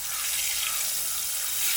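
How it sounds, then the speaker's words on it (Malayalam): Hot oil heating in a pan before arapaima is fried gives off a steady, close, hissing sizzle with fine crackle, continuous and unbroken, with no voices. "എണ്ണ ചൂടായി തിളച്ച് വരുന്നുണ്ട് കേട്ടല്ലേ."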